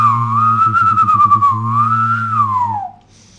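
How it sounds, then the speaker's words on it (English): A single person whistles a wavering tune while humming a low note at the same time, giving a buzzing, fluttering vibrato before trailing off. "when you whistle and you hum at the same time, it makes this, like, vibrating sound with the whistle"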